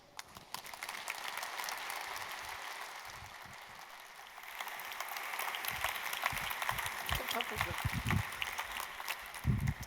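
An audience at a sustainability talk breaks into sustained applause that builds from moderate to a fuller, louder clatter of many hands over about ten seconds.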